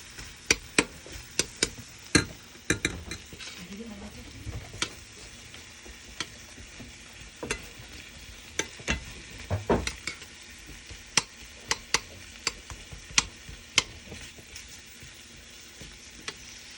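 Onions frying in a pan, a steady soft sizzle throughout with sharp, scattered clicks and scrapes of a utensil stirring against the pan.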